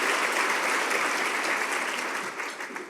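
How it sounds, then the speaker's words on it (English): A luncheon audience gives a sustained round of applause, dense and even throughout, fading slightly toward the end. "Please give them a nice round of applause."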